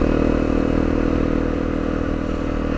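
A 2017 Honda CRF250L motorcycle is ridden through a subdivision on a cold morning, its engine putting out a steady, close, loud drone with rattling and road noise.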